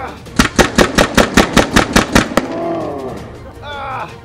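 Paintball gun fires a rapid string of about twelve sharp, evenly spaced shots at crash test dummies, loud and close, followed by a short pause and brief talk.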